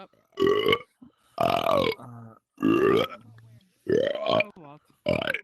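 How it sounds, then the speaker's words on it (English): Deliberate burps produced on command, about five loud, drawn-out belches in a row with short pauses between them, close and clear with no talking. "I can burp on command."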